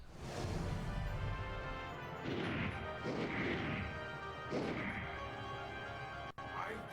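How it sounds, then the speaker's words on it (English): Gunfire from a video game character shooting into the sky, several heavy blasts at about 2-3 second intervals, each with a loud crash and trailing roar, over a steady game background. "And she's still firing into the sky."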